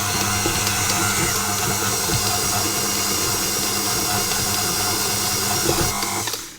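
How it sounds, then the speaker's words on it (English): A stand mixer kneads soft, sticky bun dough on medium-low speed, giving a steady, loud motor whir with a grinding, rumbling texture that runs unbroken for several seconds before cutting off at the end. "I'm going to knead that on a medium-low speed for about 5 minutes"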